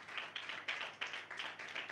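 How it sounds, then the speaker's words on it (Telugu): A church congregation claps in rhythm, a steady series of roughly regular claps blending into a soft crowd patter, moderately distant and fairly quiet. "గట్టిగా చప్పట్లు కొట్టి ప్రభువును మహిమపరుద్దాం."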